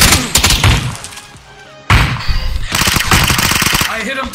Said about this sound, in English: I hit him twice with the shotgun